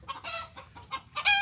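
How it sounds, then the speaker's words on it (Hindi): Chickens on a chicken farm cluck in short close bursts, several sharp squawky calls in quick uneven succession with a louder, higher cackle at the end, no talking. "मुर्गियों का एक फार्म है"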